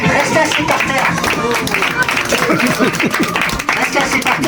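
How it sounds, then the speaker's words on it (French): A theatre audience at a hypnosis stage show gives a dense burst of clapping, loud and close, with voices mixed into the applause throughout. "Réveillez-vous maintenant, on peut les applaudir, restez assis par terre."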